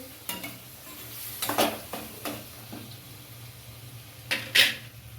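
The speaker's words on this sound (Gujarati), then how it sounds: "હવે આપણે એને ગેસની ધીમી લાઈન ઉપર સડવા દેશું." Food frying quietly in a pan over a low gas flame gives a soft sizzle, broken by a few scraping stirs and clinks of a utensil against the pan.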